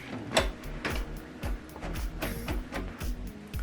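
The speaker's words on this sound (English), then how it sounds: "So this printer now, this document now is going to print from here." HP printer printing a document sent from a computer, a rhythmic mechanical clatter of feed and print-head passes repeating roughly every half second, close and steady with no talking.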